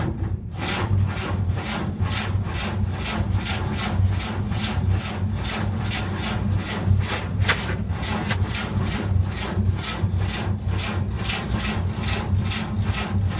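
A 1947 GMC truck engine cranking over and struggling to start, a steady rapid chugging churn of the starter that continues without catching.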